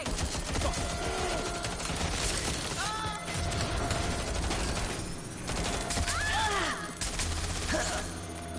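Dense, continuous gunfire in Watch Dogs Legion: steady rattling bursts and sharp cracks with shattering clatter, staying loud throughout without a break.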